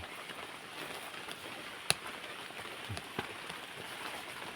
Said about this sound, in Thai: ฝนยังตกอยู่นะครับ